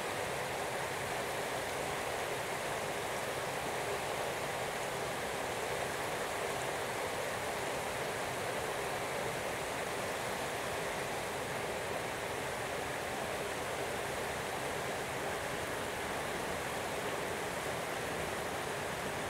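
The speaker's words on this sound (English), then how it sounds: "What do you think of this waterfall?" Steady broadband rush of a waterfall in Kaohsiung, Taiwan, heard up close as a constant, even roar with no pauses and no voices.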